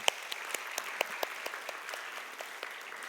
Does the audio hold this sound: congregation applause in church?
yes